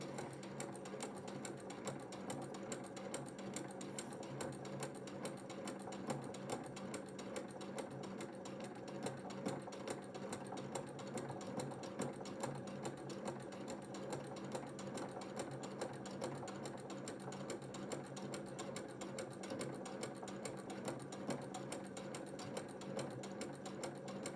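A sewing machine stitches a quilt-as-you-go block, humming with a fast, steady needle rhythm at moderate distance, running without pause and free of talk.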